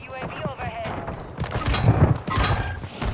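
Rapid video-game gunfire and a grenade blast crack and thump in bursts across the clip, mixed with overlapping voices of players talking.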